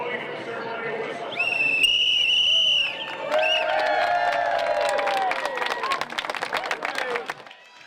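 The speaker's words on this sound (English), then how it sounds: "Mr. Tom Scanlon and Mr. Thomas McCann, will now start the parade with the blowing of the ceremonial whistle." At the start of a St. Patrick's Day parade in Cleveland, a ceremonial whistle is blown in a loud, sustained high blast, followed by a broad crowd roar and scattered applause and cheering outdoors.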